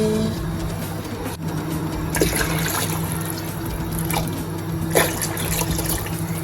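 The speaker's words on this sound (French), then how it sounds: "je viens mettre beaucoup d'eau dans un grand bol avec le nokos" Water pours into a large bowl holding nokos, a Senegalese seasoning paste, while thieboudienne is being cooked; a steady close rush of liquid with a few splashy surges and drips, no talking.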